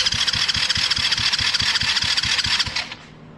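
A quad ATV engine cranks over and over without catching, a steady rhythmic chugging of the starter under a loud mechanical whir that cuts off abruptly near the end.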